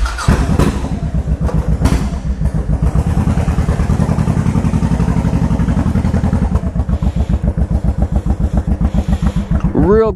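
A motorcycle fitted with ape hanger handlebars rides off and keeps running, its engine thumping in a steady, loud, close pulse that lasts the whole stretch.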